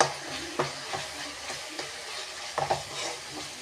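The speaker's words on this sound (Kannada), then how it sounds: "ಇದನ್ನು ಧನಿಯಾ ಪುಡಿನ ಹಾಕಿ ಚೆನ್ನಾಗಿ ಮಿಕ್ಸ್ ಮಾಡಬೇಕು." Coriander powder is stirred into a frying mixture in a pan, with repeated close scraping strokes of a spoon over a gentle sizzle and no voices.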